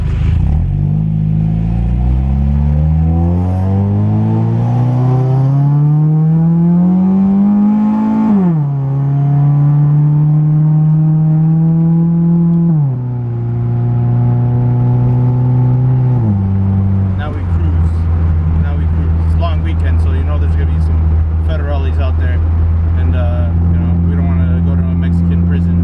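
A K-swapped Honda EL engine revs up steadily through a couple of rising pulls with gear changes, loud and close, the droning note climbing and dropping before settling into a lower steady hum.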